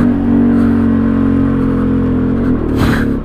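A Honda Grom motorcycle engine revs loud and close while being ridden, a sustained buzzing drone that dips and swells briefly near the end.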